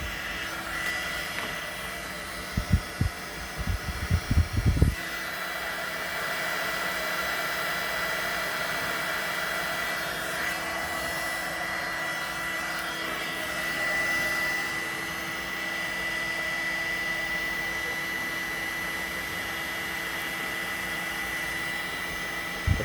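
A steady, loud heat gun blows with a continuous airy roar while shrinking heat shrink tubing over wiring on a 1969 Corvette, preceded by a few seconds of handling clatter.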